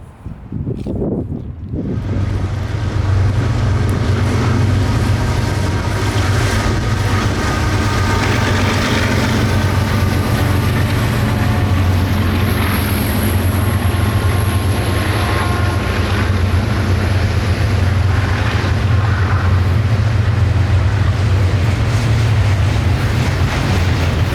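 A freight train, including flatbed trailers on spine cars, rumbles steadily past on Pennsylvania's Horseshoe Curve in winter, a loud, continuous low roar that holds for the whole stretch with no talking.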